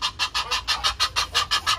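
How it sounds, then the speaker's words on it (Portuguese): A goose calls after charging at a farm gate: about a dozen loud, harsh honks in a quick, steady rhythm, close by, with no talking. "Esse ganso ia me atacar."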